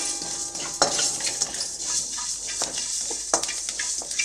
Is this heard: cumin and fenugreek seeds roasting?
yes